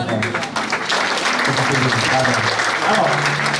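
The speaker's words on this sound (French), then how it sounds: "Acclame Jésus-Christ" A church congregation breaks into loud, sustained applause and cheering for Jesus Christ during a worship service, with a voice speaking over the clapping.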